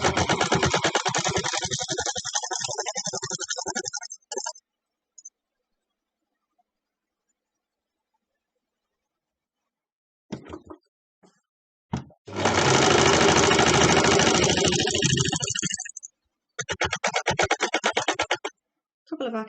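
Fast rattling bursts from a sewing machine stitching scrap fabric, several runs of a few seconds each separated by silent pauses, close and loud.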